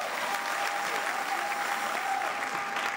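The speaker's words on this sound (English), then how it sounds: "Show your gratitude. A round of applause." Dense, steady applause from a church congregation at a ministry gathering, loud and continuous throughout with a faint crowd murmur underneath and a thin sustained tone running through.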